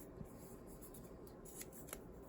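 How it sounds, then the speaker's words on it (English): Quiet snips of scissors cutting thick quilling paper, a few soft crisp cuts close by with faint rustling between them. "cut some of this paper down."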